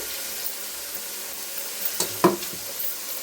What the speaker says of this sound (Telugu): బెండకాయలు కలిపి టమాటాలు వేసి కొంచెం కరివేపాకు వేసి